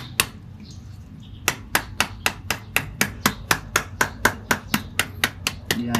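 Repeated hammer blows during a motorbike tire tube repair: about sixteen sharp, evenly spaced metallic strikes in a steady rhythm, close and loud, with no talking.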